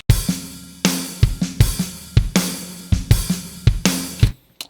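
A drum kit performance, uncompressed, with kick, snare and cymbal hits in a steady groove, dry and punchy at close range, with no voices.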